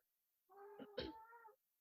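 A house cat lets out one loud, drawn-out meow lasting about a second, close and clear in an otherwise quiet room.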